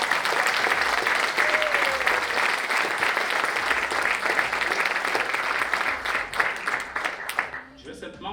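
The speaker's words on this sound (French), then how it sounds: "acclamer d'une bonne main toute l'équipe qui est en train de travailler derrière ce projet" An audience at a Quebec association gathering gives sustained applause for a project team, a dense wash of clapping that runs for several seconds before tapering off, with a voice emerging as it fades.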